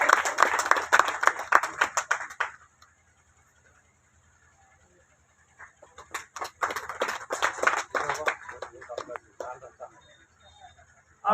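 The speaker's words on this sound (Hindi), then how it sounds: "तालियों से स्वागत कीजिए।" An outdoor crowd at the opening of a Sawan fair on the Kamla river in Jaynagar claps in two bursts, the first fading after about two seconds and the second swelling later, with a pause of near silence between.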